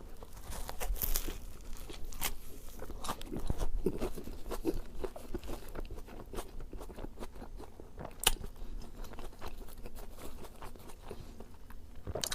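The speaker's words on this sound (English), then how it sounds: "I'm getting a crunch out of this, which maybe they threw on more onions or something." Someone bites into and chews a provolone Philly cheesesteak with onions, giving repeated close crunching, tearing and crinkling bites and wet chewing over about twelve seconds, with no talking.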